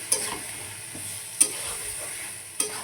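Eggplant, potato and drumstick vegetables are stirred in a frying pan, a steady close sizzle broken by three sharp spatula scrapes spaced about a second apart.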